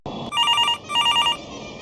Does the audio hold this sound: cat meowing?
no